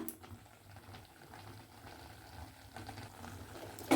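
Raw mango halwa bubbles softly in a pan, a faint, steady simmer of small pops and gentle burbling with no talk.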